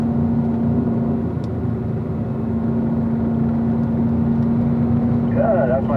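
A car engine holds a steady, droning note on a racetrack at Spring Mountain, throttle squeezed on smoothly without a sharp rise in pitch.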